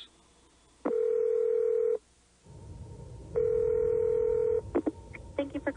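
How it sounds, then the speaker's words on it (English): A voice-activated car phone gives two long steady electronic tones with a dial tone between them, followed by a quick run of short dialing beeps. "Now, dialing's as easy as this."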